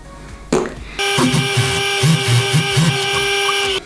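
After a brief knock, a sewing machine starts up loud and close and runs steadily, stitching the striped seam of a hoodie made from a blanket, with a rhythmic mechanical whir throughout.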